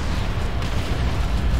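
Grenade explosions in the strategy game Dawn of War 2 Retribution, a loud continuous low booming rumble with no pauses, heard alone.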